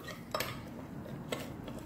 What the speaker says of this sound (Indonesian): Diaduk-aduk terus sampai dia mengental seperti ini